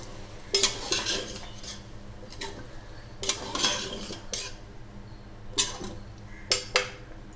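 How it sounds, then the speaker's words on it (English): A spoon stirs eggplant curry masala in a pressure cooker pot after water is added, giving bursts of metallic scraping and clinking against the pot in an irregular rhythm, close and fairly clear with no talking. "Now mix all of them well."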